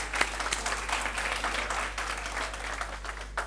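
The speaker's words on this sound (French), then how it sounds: "On applaudit très très fort pour le recevoir." A crowd at an evening high-school awards show in French-speaking surroundings applauds loudly and continuously to welcome a guest, with a constant low electrical hum underneath and a few sharper claps standing out.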